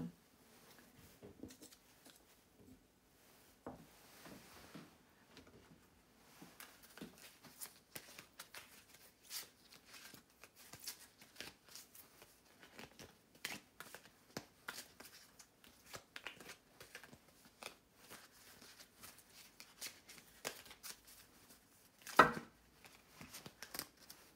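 Tarot cards being shuffled by hand before a reading, a steady stream of soft, close riffling and flicking bursts with one sharper snap near the end, and no talking over it.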